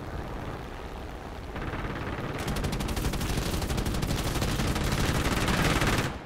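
Aircraft machine-gun fire from the War Thunder combat flight game, a dense, rapid rattling burst that kicks in partway through over steady engine roar and grows louder toward the end, with no talk.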